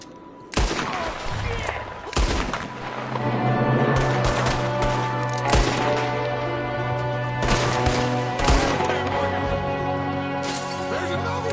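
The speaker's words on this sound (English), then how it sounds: "There's another one shooting from the window." A gunfight in Red Dead Redemption 2 fills the scene with loud, close rifle and pistol shots, separate cracks every second or two and a few quick volleys, over a sustained musical tone.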